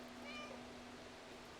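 A cat meows in the video game Stray, one drawn-out, fairly quiet mew over a constant low in-game hum.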